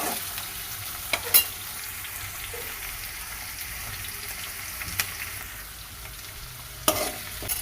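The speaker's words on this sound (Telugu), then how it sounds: "కరివేపాకు, సన్నగా కోసి పెట్టుకున్న టమాటాలు వేసి బాగా కదిలించుకోవాలి." Curry leaves and finely chopped tomatoes sizzle softly in hot oil as they are stirred, a faint steady frying hiss broken by a few sharp clicks of the spoon against the pan.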